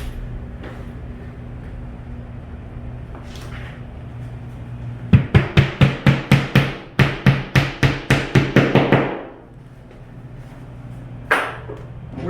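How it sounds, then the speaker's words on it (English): An anchor is driven into a wood mount during installation with a rapid series of about fifteen sharp hammer blows, close and loud, after a quiet stretch, then one more strike near the end. "we're going to drive our first anchor"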